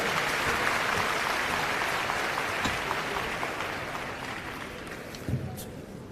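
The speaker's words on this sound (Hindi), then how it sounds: "आप सभी की तालियों की गड़गड़ाहट के साथ उनका स्वागत करेंगे" Audience applause welcoming a speaker at a World Environment Day environmental conference: a steady, fairly distant wash of many hands clapping that slowly fades toward the end, with faint voices beneath.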